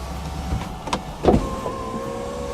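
Power convertible top motor of a 2008 MINI Cooper S convertible whirring through its cycle, a steady close electric hum with brief clicks and thumps as the roof sections move.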